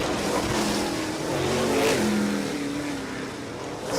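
Modified race cars lap a track on the Modified Mafia Tour, a steady loud engine drone rising and falling as cars pass, with no talk.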